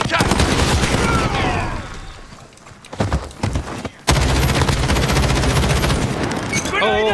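Rapid automatic gunfire in a PC shooter game, loud close bursts that drop away briefly and then resume as dense sustained firing, with scattered game sounds and voices mixed in.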